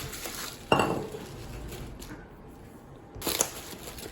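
Crow Canyon enamel cereal bowls and mugs knock together in two sharp clinking bursts, the first early and the second near the end, separated by quiet handling noise.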